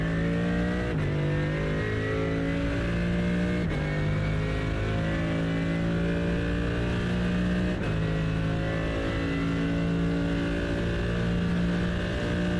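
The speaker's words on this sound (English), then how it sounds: "And you can still hear the engine sounds." Race car engine in the iRacing video game, a loud sustained engine drone that climbs steadily in pitch through each gear, with three sharp upshifts dropping the revs before it winds up again.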